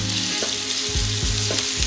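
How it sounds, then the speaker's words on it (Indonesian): Meat fries in hot oil in a teflon pan, a loud, close, continuous sizzle with rhythmic scraping strokes as it is stirred. "Kita masukin dagingnya ke dalam panci ini,"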